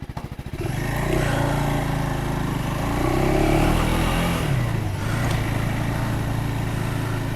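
KTM 390 Adventure motorcycle being ridden, its single-cylinder engine revving up from idle into a loud, sustained, close drone that rises and settles through gear changes.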